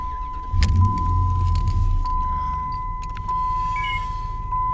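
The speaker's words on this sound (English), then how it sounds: "we'll take the key truck and turn the truck on" Truck started with the key during a car stereo install: keys jingle, then a starter cranks and the engine catches into a steady low idle rumble, accompanied by a constant electronic chime tone.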